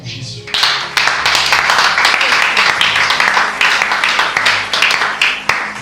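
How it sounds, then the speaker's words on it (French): A church congregation bursts into loud, sustained applause and cheering, dense rhythmic clapping filling the room with voices shouting throughout. "Acclame fort pour Jésus."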